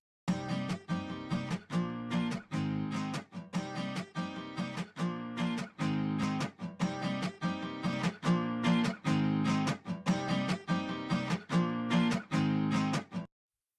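Strummed acoustic guitar with mixing plugins layered in one at a time, a steady chord pattern repeating with crisp attacks, loud and clear with no voices.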